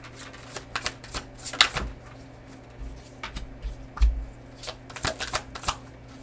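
Tarot cards are shuffled by hand close up, a series of quick riffling bursts and soft taps coming in uneven clusters over a quiet room, with no speech.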